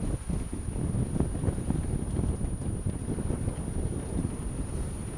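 Steady wind of 17 to 18 knots buffeting the microphone on a sailboat, with rushing water and boat noise beneath, a continuous low roar throughout.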